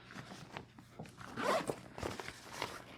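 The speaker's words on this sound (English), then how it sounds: "You've got the zipper on top, which you can pull down to access whatever discs you've got up in the putter compartment." The top zipper of a DD Commander disc golf cooler bag is pulled open in a few quick, close, raspy strokes, heard alone.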